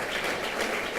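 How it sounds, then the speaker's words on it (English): A steady wash of crowd clapping at a women's recognition event, an even, dense round of applause with no gaps, fairly loud and heard alone. "One more round of applause"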